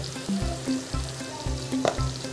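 Puffed rice and spices sizzling and frying in a pan, a steady crackle with intermittent stirring scrapes and taps, close and moderately quiet.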